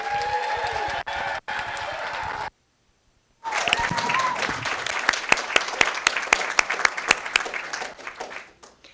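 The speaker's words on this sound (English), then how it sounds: "Let's give one more round of applause for all of this year's winners." School award winners get an audience round of applause at a district board meeting, heard as a short burst, a gap of near silence, then a fuller, louder stretch of clapping that fades out at the end.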